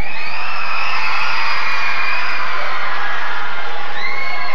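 Crowd at a live Power Team strongman event in Rock Island, Illinois, yelling and cheering at full volume, a dense wall of screams with high children's shrieks, constant and loud throughout.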